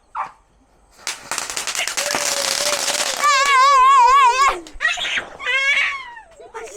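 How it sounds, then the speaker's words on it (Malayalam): A Chinese firecracker goes off at a wedding gathering, giving a loud, dense crackling burst followed by a shrill warbling whistle that fades into scattered pops. "ഏതാ ചൈന പടക്കണോ?"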